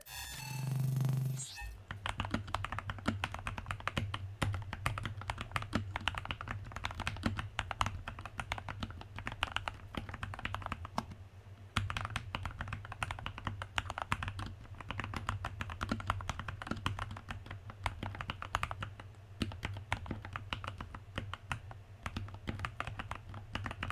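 Continuous typing on a Dustsilver cyberpunk RGB mechanical keyboard, a steady stream of close, crisp key clicks and clacks over a low hum, lasting throughout with a brief pause near the middle.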